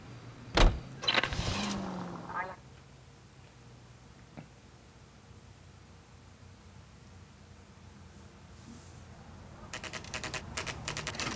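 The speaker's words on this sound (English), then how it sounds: "Can you drive to this one?" Car in the video game LA Noire, opening with a sharp door slam and engine start, then a quiet low idle hum, ending with rapid clicking or ticking sounds near the close.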